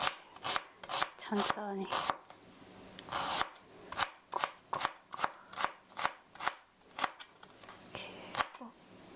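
An onion minced with a pull-cord chopper: close, rapid, rhythmic whirring bursts from repeated cord pulls, with a short spoken word near the start.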